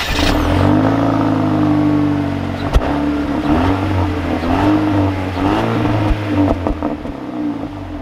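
A 2021 Jeep Renegade Trailhawk engine accelerates while driving, a loud continuous mid-pitched drone that climbs and falls through several rev changes, with a sharp thump partway through and steady road noise underneath.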